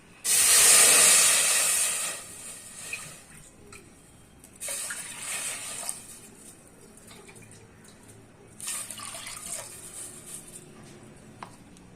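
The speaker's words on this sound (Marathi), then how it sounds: "आता आपण याच्यामध्ये तीन ग्लास पाणी टाकूयात" A loud burst of water gushing into a pressure cooker on a lit gas stove, then two shorter, quieter pours with a faint hiss in the gaps.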